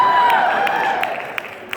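A crowd applauds with dense, continuous hand clapping, fairly loud and close, fading slightly toward the end with a couple of louder individual claps.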